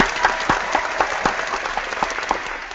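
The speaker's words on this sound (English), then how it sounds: "I want to give a big round of applause." A panel event audience claps in a steady, moderately close round of applause lasting a few seconds, with no voices over it.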